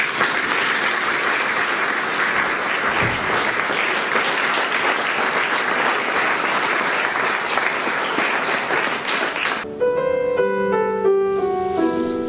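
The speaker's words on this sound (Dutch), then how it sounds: "Francesco Attesti, en een groot applaus voor hem." Loud, sustained applause from a large audience fills the room, then fades out as a few piano notes begin to play.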